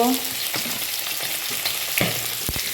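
Oil sizzles for frying potatoes, a close, steady crackle with a few sharp clinks and scrapes of stirring scattered through it and no voices.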